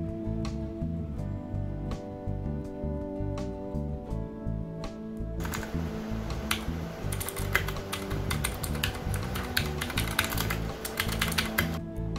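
Typing on a Zebronics ZEB-MAX NINJA 61-key wireless mechanical keyboard gives a steady run of close, crisp key clicks. A quieter stretch at the start gives way to denser, faster keystrokes.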